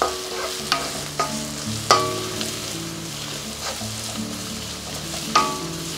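Vegetables with capsicum are stirred in a hot pan for Hakka noodles, a steady sizzle broken by several sharp scrapes and clinks of the spoon against the pan.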